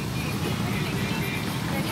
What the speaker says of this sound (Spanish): ya estaba pasando un carro, yo no lo había visto